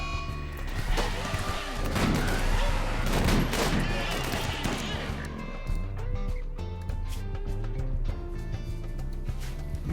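Sniper gunfire in the video game Rimworld: a dense burst of sharp, crackling shots fills the first half, then sparser scattered reports and game sounds continue, with speech over the top.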